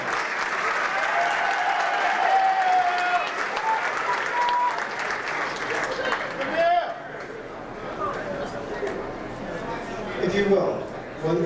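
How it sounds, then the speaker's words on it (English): Loud, dense audience applause for the ten finalists at a national entertainer of the year pageant, strong for the first six seconds, then thinning into scattered clapping and crowd murmur with bursts of voices. "one round of applause for all 10 finalists"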